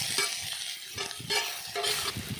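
Onions browning in a pan for quail pepper fry crackle and sizzle loudly up close, broken by rhythmic spatula stirs every half second or so.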